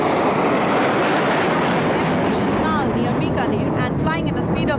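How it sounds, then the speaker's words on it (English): Five Jaguar jets in formation at a Republic Day air show flypast make a loud, continuous roaring rush that fills the whole clip, with no break in the noise. "अमृत formation 5 Jaguar विमान, भारत की सुदृढ़ वायु शक्ति का प्रदर्शन।"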